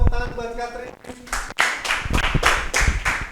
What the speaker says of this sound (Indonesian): tepuk tangan buat Katrin.